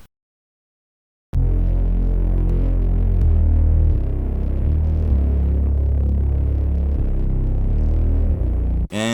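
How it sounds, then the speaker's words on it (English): After a moment of silence, a thick, throbbing synth bass drones alone, low and wobbling, shifting between a few sustained notes for several seconds. "there's your Reese bass"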